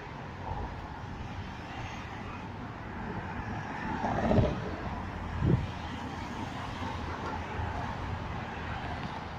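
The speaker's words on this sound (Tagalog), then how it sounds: "Pasensya na sa ingay ng mga sasakyan." Steady road traffic rumbles along a busy street in Riyadh, with cars passing and two louder vehicles sweeping by in the middle, a continuous urban drone without talking.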